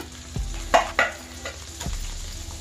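Masala-stuffed brinjal frying in a pan is stirred, giving a low sizzle broken by a few close scrapes and knocks of the spoon against the pan.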